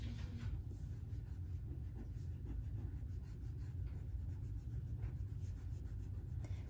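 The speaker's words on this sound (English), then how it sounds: "Then you just go in with an eraser and erase the insides." A pencil eraser rubs back and forth over paper, clearing the inside of lightly drawn bubble letters; a steady, close, soft scratchy friction continues throughout with no voices.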